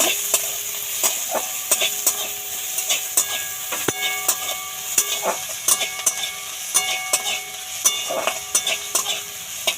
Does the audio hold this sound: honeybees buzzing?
no